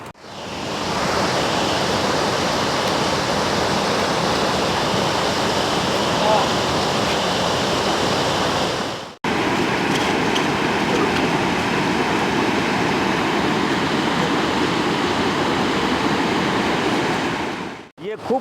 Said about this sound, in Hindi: ऊपर से पानी काफ़ी तेज़ी से आते हुए और चट्टानों से टकराकर नीचे जाते हुए, प्रवाहित होते हुए